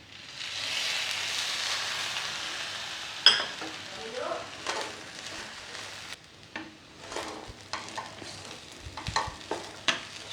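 Sago khichdi being stirred in a non-stick pan with ghee, sugar and lemon juice: a soft sizzle at first, then irregular scraping and stirring clatter, no talking.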